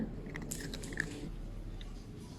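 A pet crunches free dry kibble nearby: soft, steady chewing and small crisp crunches over faint background noise, with no talk.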